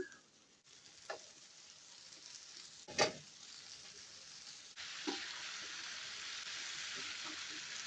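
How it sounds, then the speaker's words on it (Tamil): Wet cut breadfruit pieces drop into hot oil in a pan and start a broad, steady sizzle. A stir or clatter comes in near the start, then the frying grows louder and stays continuous and close. "இப்போ இந்த ஸ்டேஜில் வந்து நாங்கள் வெட்டி கழுவி வச்சுருக்கிற ஈரப்பிள்ளாக்காயை சேர்ப்போம்"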